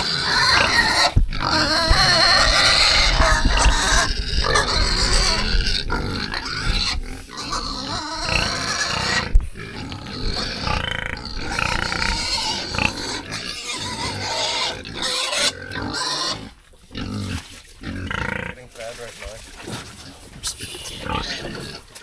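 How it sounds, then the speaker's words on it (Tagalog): Pigs grunting, oinking and squealing in a farm pen in the Philippines, a busy, continuous stream of close animal noise with brief pauses, while a person talks over it at times. "Yan na pala guys yung mga baboy na nakaraan."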